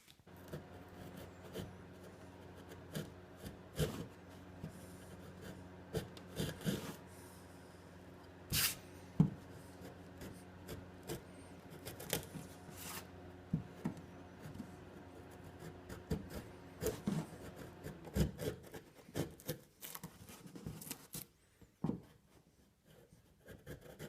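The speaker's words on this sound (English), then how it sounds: "then start my cutting into the deck reluctantly" Cutting into the deck of a cedar strip kayak to carve out a recess for repairing a hollow before fiberglassing: close, irregular scraping and rasping strokes in uneven bursts, with no talking.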